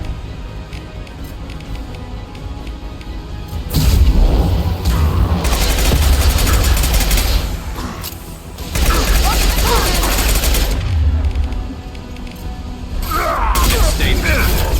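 Gunfire in the Mass Effect 2 video game rattles in loud sustained bursts of rapid automatic shots, with mechanical clatter and booming impacts between volleys, and some talking mixed in.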